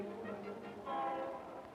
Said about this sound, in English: the train arrives in the heart of the big city